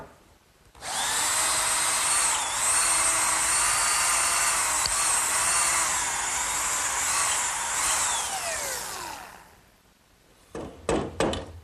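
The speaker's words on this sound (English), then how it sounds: "And now I want to drill 2 more holes right up through these 2x4s." A power drill bores steadily up through 2x4 lumber while building a garden swing in a woodworking shop, a loud sustained whine of about ten seconds with small pitch dips as the bit bites, then winding down, followed by a few sharp knocks.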